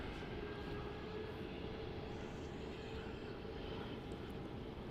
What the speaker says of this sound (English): It looks like we have one of the Jetstar A321 Neos starting up on pushback from Terminal 4